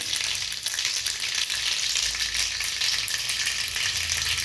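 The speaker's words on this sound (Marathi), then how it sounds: "दोन चमचे मोहरी मोहरी जास्तीच घालायची आणि ती चांगली अशी छान तडतडू द्यायची" Mustard seeds spluttering and crackling in hot oil for a dhokla tempering, a dense, steady sizzle with rapid pops throughout, close and fairly loud, with no talking.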